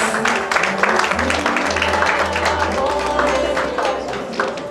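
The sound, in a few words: audience round of applause at an award ceremony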